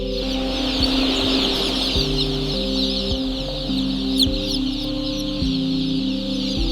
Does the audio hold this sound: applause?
no